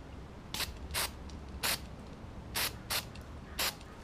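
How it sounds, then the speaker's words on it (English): Electronic cleaner sprayed onto the air temperature sensor of a 2013 VW GTI: six short, sharp hissing bursts spaced irregularly, close and distinct over a quiet background. "So you can kind of spray just a tiny bit."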